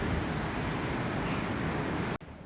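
An electric pump's hose at a hard rock gold mine blasts water off a level in a loud, constant, close roar that cuts off abruptly just before the end.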